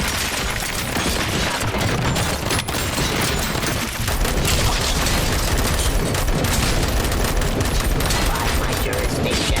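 Dense, loud gunshots fill a RoboCop: Rogue City shootout, a steady wall of firing and impacts lasting nearly ten seconds with barely a pause, and speech mixed in underneath.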